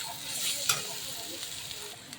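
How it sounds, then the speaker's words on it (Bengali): Chopped ginger, garlic and green chilli fry with onion in hot oil, a soft steady sizzle broken by a few quiet spoon stirs and taps, fairly faint and close. "তারপর আদা রসুন লঙ্কা কুচি দিয়ে একটু নেড়ে নিচ্ছি"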